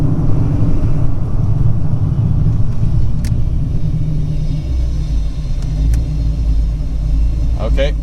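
A cammed Foxbody Mustang 5.0 V8 idles with a steady, heavy low rumble that rises slightly near the end, close and loud throughout, with a few faint clicks on top.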